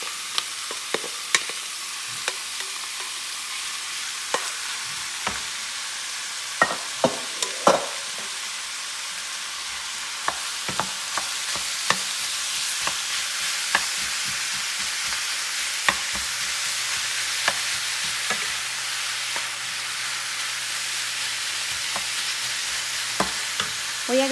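Seasoned beef, salted and peppered, fries in oil with onion and poblano chile, a constant soft sizzle broken by frequent clicks and scrapes of stirring, with no talking.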